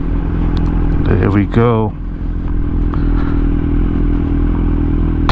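Kawasaki Z900 motorcycle riding through city streets, its engine and exhaust giving a steady close drone throughout, with a brief rising rev swell near the start and someone speaking briefly over it.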